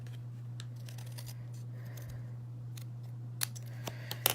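Scissors snip through paper while a handmade card is being made, giving faint scattered cuts followed by a few sharper closer snips near the end, over a steady low electrical hum.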